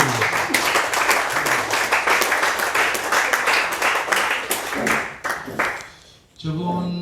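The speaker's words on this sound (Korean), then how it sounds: "큰 박수로 한번 응원" Crowd applause at a performing arts institute's year-end anniversary party in a Seoul restaurant, a dense stretch of claps that thins out and fades, followed by a brief voice.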